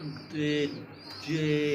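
Racing pigeons coo twice at close range, each a short, soft, throaty burst with a pause between them.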